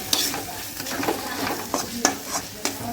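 Stirring coriander and Kashmiri chili powder into chicken masala frying in a pan gives a sizzling hiss broken by several clattering scrapes of the spoon at irregular intervals, close and clear.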